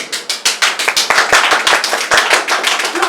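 Audience applause at a live Hindi theatre play, a sustained burst of many hands clapping close and loud for about three seconds, with no voices on top.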